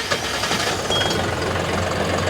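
A 75 horsepower tractor engine idles steadily close by, a continuous low rumble with a faint knocking pulse and no talk over it.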